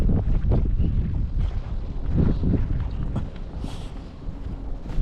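Strong wind at Land's End, Cornwall, buffets the microphone with steady low roaring gusts throughout, loud and close, with a brief airy rush near the end and no speech.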